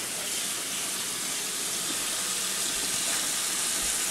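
Overnight-salted cabbage rinsed under running water for kimchi, a steady broadband gush from a tap that stays even and close throughout with no pauses or voices.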